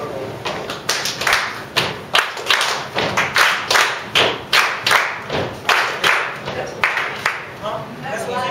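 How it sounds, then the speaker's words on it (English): A church congregation keeps a steady stomp-clap-clap pattern, with heavy floor thuds followed by paired hand claps, repeating evenly for several seconds, loud and close, with voices mixed in. "This time you're gonna stomp once and then clap twice."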